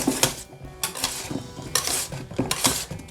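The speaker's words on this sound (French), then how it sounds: "à l'aide d'un fouet, je mélange l'ensemble" A whisk rattles against a bowl, folding whipped cream into Italian meringue for a coconut-pineapple bûche; there are quick, repeated metallic clicks and scrapes at close range.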